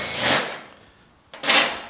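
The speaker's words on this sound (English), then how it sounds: "now I'm just going to use that to chamfer these holes to make sure that their burrs are gone" Two short whirring bursts from a drill bit chamfering holes in an inner door patch panel of a 1950 Chevy truck to remove burrs, separated by about a second of quiet.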